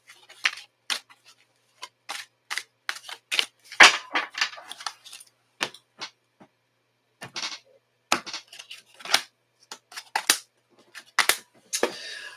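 Tarot cards are shuffled in a quiet room, giving crisp, uneven bursts of riffling and snapping separated by short silences, close and fairly clear.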